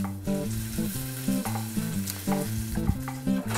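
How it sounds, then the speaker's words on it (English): Hot dogs fry in hot oil in a pan, sizzling and popping constantly at close range while a tune plays over the top, with no talking. "All right, our oil is hot and in the weenies go."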